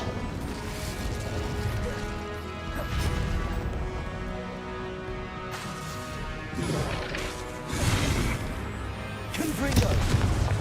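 Incendio, a fire spell in the game Hogwarts Legacy, cast amid busy combat with repeated crashing, whooshing bursts and clattering impacts over a steady rumbling bed across ten seconds.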